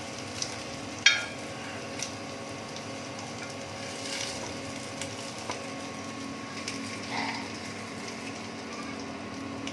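Fish frying in oil over a low flame, a soft steady sizzle close by with a few light clicks and taps of a utensil.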